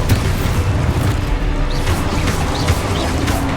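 Spell explosions in Hogwarts Legacy, including Exposo, form a dense, loud, continuous rumble of booms and bursts with no clear gaps between blasts.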